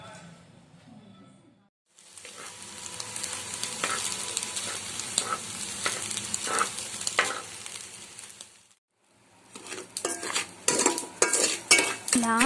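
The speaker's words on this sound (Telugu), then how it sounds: "రైస్ని మనం పెనం మీద పెట్టి వేయించుకోవాలి" Rice is dry-roasted in a hot pan without oil, with continuous grainy scraping and rustling from stirring, a pause, then more clattery stirring.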